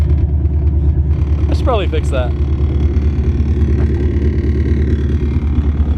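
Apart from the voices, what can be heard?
Nissan Skyline R33 RB26 engine idling with cams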